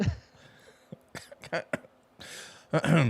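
A person coughs several times in short, separate bursts, some close and harsh, with what sounds like throat clearing between them; no words are spoken.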